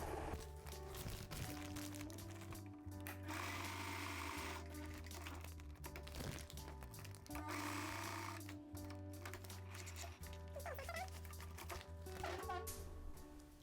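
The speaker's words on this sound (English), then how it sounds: "And at the bottom I'm going to sew it to the bias tape many times." A sewing machine stitches a strap onto a plastic beach bag in repeated bursts of fast mechanical whirring with short pauses between runs, close and quiet, with a faint plastic crinkle.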